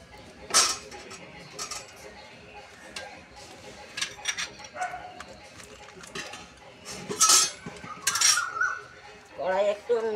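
Metal utensils clink and clatter against a wok (kadai) as oil heats for frying katla fish for Bengali kalia, scattered sharp knocks and scrapes at irregular intervals, close by.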